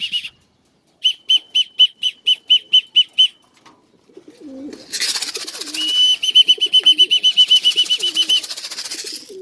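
A racing pigeon arrives home, with a rapid series of whistling wingbeats followed by louder, continuous flapping close by as the bird lands and settles.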